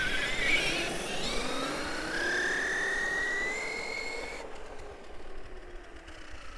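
A brushless Traxxas Summit RC truck on X-Maxx tires accelerates, its motor whine rising steadily in pitch over rough rumbling terrain noise before cutting off and easing into quieter rolling.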